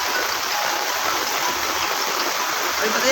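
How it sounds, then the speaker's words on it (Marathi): A loud, steady roar of heavy rain pours down continuously over a cricket ground, dense and close, with no breaks. "हे असा जोरात पाऊस आहे"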